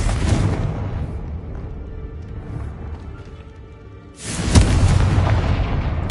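A Confringo fire spell blasts in Hogwarts Legacy, a deep rumbling boom that swells at first, settles into a low roar, then bursts again loudly near the end with no talk over it.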